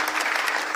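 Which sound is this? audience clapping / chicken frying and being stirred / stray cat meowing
audience clapping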